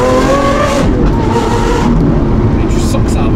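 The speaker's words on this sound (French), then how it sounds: "C'est un moteur qui a besoin de se lancer." A Lamborghini Aventador SVJ's V12 engine revs and accelerates hard, its roar climbing in pitch, with someone talking over the noise.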